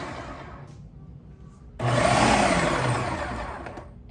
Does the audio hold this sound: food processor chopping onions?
yes